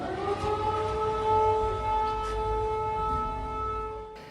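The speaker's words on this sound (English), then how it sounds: "Air raid sirens are commonplace now in the capital." A wailing air raid siren in Ukraine's capital holds a long, steady tone that slowly swells and fades, loud and continuous with no talking.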